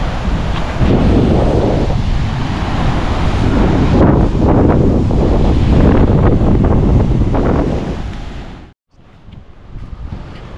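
Strong wind buffets the microphone while sea waves surge and wash onto a beach on Diu island, a dense, continuous roar that drops out briefly near the end before resuming more softly.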